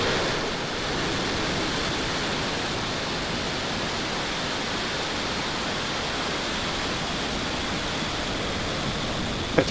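A SpaceX Falcon 9 rocket carrying the Turksat 5B satellite lifts off with a steady, broad roar that holds constant throughout and carries no voices.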